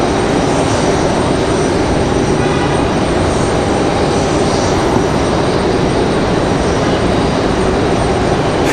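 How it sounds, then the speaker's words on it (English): A United airliner taxis at Raleigh-Durham International Airport, its engines a loud, continuous broadband roar with steady rumble and hiss throughout, close by and with no pauses. "we've got a United taxiing in quite a hurry here"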